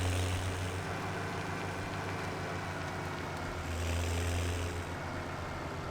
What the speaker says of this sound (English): Little Turbo 90 sounds good, though. May not have much power, but it sounds good.